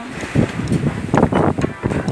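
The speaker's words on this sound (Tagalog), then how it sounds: "Mahangin talaga sa labas." Strong outdoor wind buffets the microphone in irregular loud gusts, rumbling and rustling in bursts that rise and fall over a couple of seconds, close and harsh.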